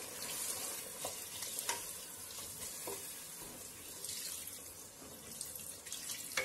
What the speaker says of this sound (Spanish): Bueno, vamos a echar agua ahora.